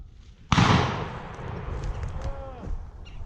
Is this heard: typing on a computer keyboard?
no